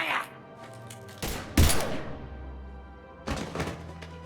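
Gunfire from the video game Mass Effect 3 comes as a few heavy bursts and thuds separated by pauses, with in-game voices talking in between.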